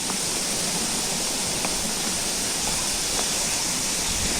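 A river runs beside a hillside road in rainy weather, giving a steady broadband rush of flowing water that stays even and continuous throughout, with no voices.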